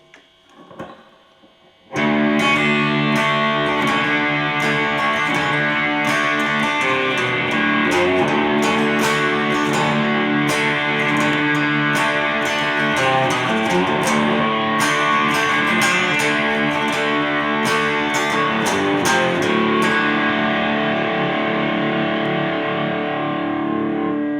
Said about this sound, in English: we've got 6 bars of this lone guitar part on its own